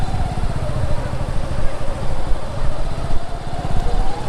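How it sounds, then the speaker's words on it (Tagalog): Motorcycle engine running on a sandy beach trail at Labnig Beach, Camarines Norte, a steady close putter with a rising and falling pitch, continuous throughout, with faint voices mixed in. "Kaya daw ang motor dito eh."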